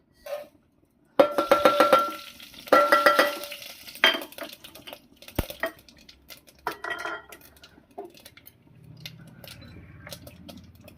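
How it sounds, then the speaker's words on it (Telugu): Tempering is added to tomato dal in a pan, with loud metallic clanks and clatter of utensils against the cookware, then softer scraping and stirring. "పోపు వేసేద్దాం."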